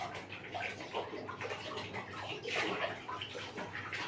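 A pigeon bathing in a shallow basin of water, with continuous soft splashing and fluttering ripples throughout, close and moderately loud with a brief burst of heavier splashing midway.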